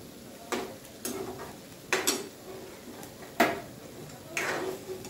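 A spoon scrapes and knocks against a pot while potato curry is stirred with garam masala, giving about five separate clinking strokes at an irregular pace over quiet background, close and moderately loud.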